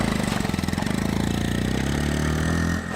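A 2021 Honda Monkey mini bike engine runs close by with a steady, rapid thumping pulse at idle and a slight rise in pitch near the end, loud and alone.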